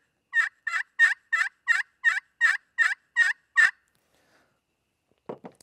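Wild turkey hen yelping: a steady series of about ten evenly spaced, loud, raspy yelps close by, then a short pause and a faint low scrape at the end.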